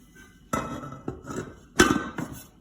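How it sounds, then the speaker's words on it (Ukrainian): A large 6 to 8 litre roasting pot being closed with its lid over marinated duck and vegetables in a home kitchen: a few sharp metallic clinks and knocks, close and fairly loud, with quieter rattles between them. "Добренько закриваю кришечкою"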